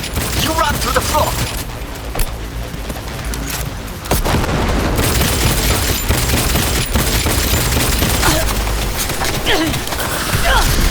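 Sustained gunfire in Cyberpunk 2077, a loud firefight of rapid shots and booms rattling on for about ten seconds, with a brief lull partway through before the shooting picks up again.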